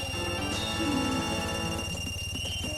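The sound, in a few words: Goron sleeping sound in Zelda: Majora's Mask video game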